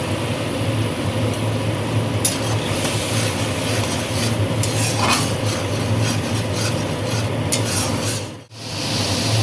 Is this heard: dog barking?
no